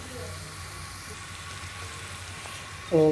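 Vegetables with turmeric, home spice mix and gram flour fry steadily in a pan, giving a soft continuous sizzle close by, with a brief louder stir near the end.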